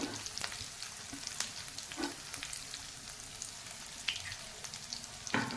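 Eggplant pieces with added masala sizzle steadily in a pan, with scattered stirring scrapes and a few louder clatters over continuous frying hiss.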